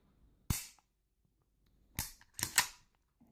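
Norinco N22 9mm pistol dry-fired, the trigger giving a sharp mechanical click, followed after a pause by a few more quick clicks of the trigger resetting and breaking, close and crisp against near silence.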